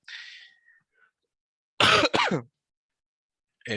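A sharp double cough bursts out close to the mic, harsh and throaty, between short quiet pauses.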